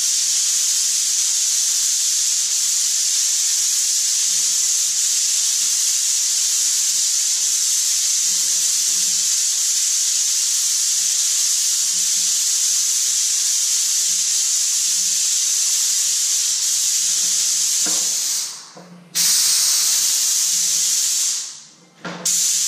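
Paint spray from an airless sprayer laying down a heavier second coat before back rolling, a loud steady hiss running for most of the stretch, then briefly cutting out and restarting near the end.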